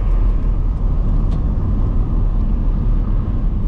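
A 1998 Mercedes-Benz SLK 230 under way, steady broadband road and engine drone with heavy low rumble, constant and close from inside the cabin, no talk.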